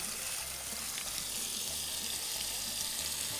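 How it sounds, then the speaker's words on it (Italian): Food browning in a pan, a continuous loud hiss and crackle of frying with low rhythmic scraping as it is stirred, no talk over it. "Qui, come vedi, stiamo dando la prima rosolatura."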